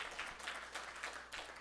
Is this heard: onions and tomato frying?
no